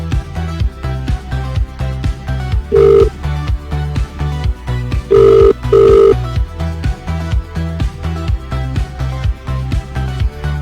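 A telephone rings for an incoming caller on a live radio call-in show, three short bright electronic ring bursts over a loud, steady rhythmic music bed.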